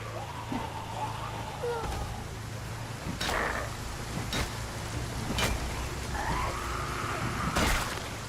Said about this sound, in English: Why must it always rain?